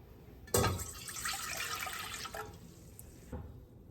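Milk poured into a medium-sized saucepan for Portuguese Easter bread, a soft splashing rush lasting about three seconds, near and fairly quiet, with no speech.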